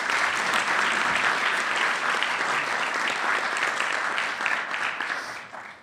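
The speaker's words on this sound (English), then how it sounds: "And now a round of applause for our head table." A luncheon crowd at the National Press Club applauds the head table, a full, sustained burst of many hands clapping that holds steady and then tapers off at the end.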